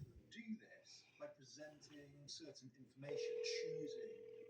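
Outgoing call on a house phone line, a steady ringback tone sounding in the second half after a stretch of talk and background noise, ringing on without interruption.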